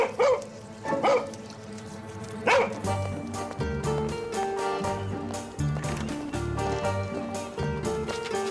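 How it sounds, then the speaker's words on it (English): A stray dog gives a few sharp, close barks near the start, and then music takes over and carries on loudly. "Stray dog."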